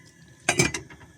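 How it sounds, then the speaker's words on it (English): A pot lid is set down on a cooking pot on a new cooker in a camper van: a short cluster of metallic clinks and clatter, close and fairly loud, over a faint low hum. "Stick your lid on."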